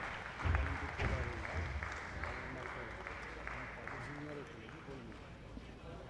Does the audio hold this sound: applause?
yes